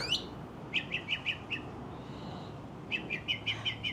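Small bird chirping in short rapid bursts of bright tweets indoors, two clear runs of several notes each, near and fairly loud with no talking.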